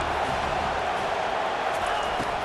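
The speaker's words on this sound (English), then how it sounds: "this crowd trying to help keep them there" Steady roar of a packed stadium crowd in a college football video game, Miami against UNC, a dense continuous wash of cheering noise with no clear peaks.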